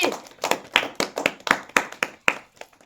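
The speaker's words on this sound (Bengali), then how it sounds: "সবাই একটা হাততালি।" Children clapping for a prize winner at a kids' eating-challenge game, a short burst of about a dozen sharp, uneven claps close by, fading out at the end.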